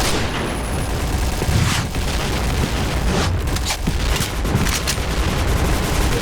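Explosions and rapid gunfire in the online shooter game Point Blank, a dense, loud barrage of shots and booms throughout, with sharp bursts clustered toward the end.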